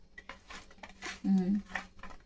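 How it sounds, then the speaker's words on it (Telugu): Utensil clinks and scraping as masala, salt and lemon are worked onto white pomfret in a bowl, short irregular clatters with one louder scrape near the middle, close and moderately quiet, with speech around it. "అలాగే సాల్టు నిమ్మకాయ ఇప్పుడు వీటిని బాగా మసాలా పట్టించాలన్నమాట"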